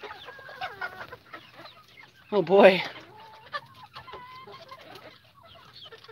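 Chickens cluck in a chicken coop, a soft, irregular chatter of several birds close by. One louder squawking burst rises mid-way, and someone speaks briefly.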